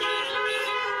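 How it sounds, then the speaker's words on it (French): A car horn blares in one steady, sustained honk from vehicles gathered at an outdoor religious sermon where drivers sound their horns to say amen, fairly loud and continuous with no voices. "Pour dire amen dans la voiture, on klaxonne."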